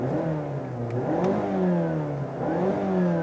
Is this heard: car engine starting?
yes